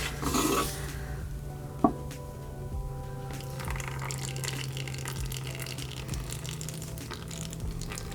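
Oil leaking out of a Toyota 2JZ engine from a junkyard, a steady wet trickle running continuously over a low workshop hum, with one sharp click early on.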